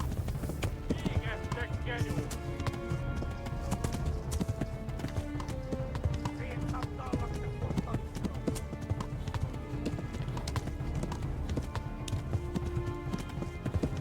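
Horse hooves from the medieval game Kingdom Come pound in a steady galloping rhythm, close and continuous over a busy game soundscape, with talking over it.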